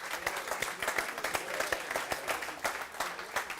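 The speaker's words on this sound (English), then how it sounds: "I'd like you to all give yourselves a big round of applause." A crowd at an auctioneers' AGM and national auction championship applauds itself, brisk uneven clapping from many hands with distinct individual claps standing out, sustained evenly throughout without speech.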